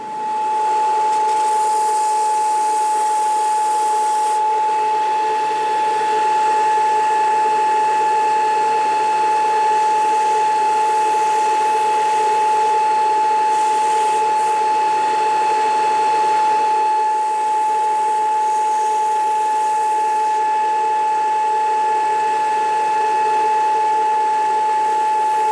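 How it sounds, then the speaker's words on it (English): Belt sander truing up the glued edges of a three-piece leather axe sheath, a steady, loud motor whine with a constant high tone and a rough abrasive hiss that varies slightly as the leather is pressed against the belt. "take this to the belt sander and just true up the edges where we've glued"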